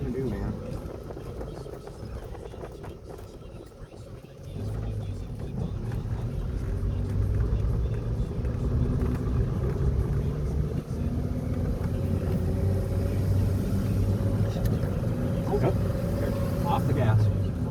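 Jeep with a 4.0 engine and manual transmission driving, a low steady engine rumble that swells as it pulls away, heard from inside the cab under ongoing conversation.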